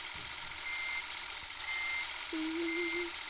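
A heavy truck reversing in a truck-driving video game: three evenly spaced electronic backup beeps about a second apart sound over a low, steady engine hum, fairly quiet overall, with a brief extra tone toward the end.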